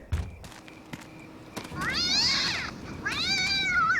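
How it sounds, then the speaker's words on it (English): A domestic cat meows twice, clear and fairly close, with long rising-and-falling cries in a quiet indoor space, the second call trailing off after a short pause. "Yeah, that's a good kitty cat."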